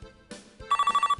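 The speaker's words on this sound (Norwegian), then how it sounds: "Telephone." Telephone ring from a 1997 PC English-learning game, a short electronic trill of about eight rapid pulses following brief tonal jingle notes, loud and close.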